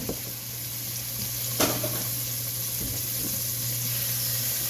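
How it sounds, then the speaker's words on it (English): Minced garlic sizzles steadily in hot oil in a pot, a close, continuous frying hiss with a brief louder crackle partway through and no talking. "I'm going to go ahead and get that started to fry off a little bit"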